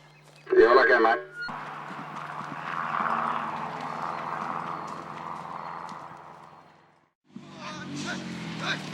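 Horses used for mustering cattle on a property along the Burdekin River, a short burst of hoof clip-clop near the start followed by a long rumbling stretch and a louder busy section at the end, with talk.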